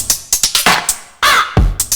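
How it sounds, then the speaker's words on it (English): A synthesized crow call from a Make Noise Strega synthesizer over a simple drum beat: loud, harsh, caw-like bursts in a rapid, uneven pulse, punctuated by a deeper thump, with no voice. "drum beat and crow sound"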